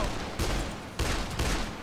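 Gunfire from the video game Dead Island comes in three sharp, loud bursts of rapid shots in quick succession, with no talk.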